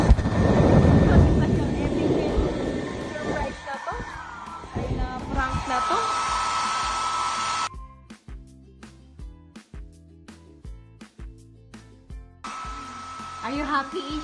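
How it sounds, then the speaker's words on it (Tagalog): A pink handheld blower dries wet paper with a steady, loud broadband whoosh that runs for the first half, cuts out, then returns near the end, while people talk and exclaim over it. "papatuyuin ko na itong blower na color pink."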